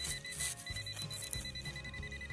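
Metal detector beeping over a find, a rapid series of electronic pulsing beeps repeating in an even rhythm, close and clear with no talk.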